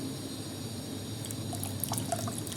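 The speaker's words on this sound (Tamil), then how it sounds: "இப்போ வந்து நம்ம எடுத்து வச்ச தண்ணியை ஊற்றி" Water pours in a steady, continuous wash, with small splashy flickers as it runs into tomato bajji batter.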